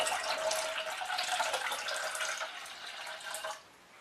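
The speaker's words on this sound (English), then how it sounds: "we're going to add the second half litre of water" Half a litre of water pours steadily into a lemon and sugar mixture, a continuous close splashing stream that runs for over three seconds before tapering off.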